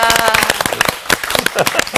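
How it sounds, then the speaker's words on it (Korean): Clapping from an audience in a lecture hall during a Bible-study class, a dense run of sharp hand claps that stays steady and close for the whole stretch. "제가 여러분들 박수 한번"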